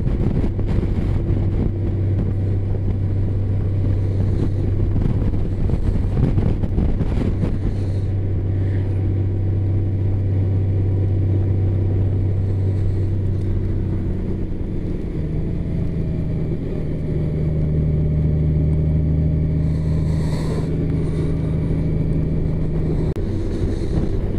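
A Honda Gold Wing motorcycle engine hums steadily while riding through the Sauerland, a low continuous drone with wind rushing over the microphone throughout.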